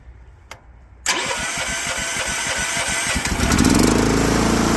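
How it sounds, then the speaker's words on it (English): A Honda GX340 engine swapped into a Cub Cadet shaft-drive tractor cranks with a rapid chugging starter rhythm after a click, then catches and rises into a loud, steady running idle close by. "reach forward and crank it over"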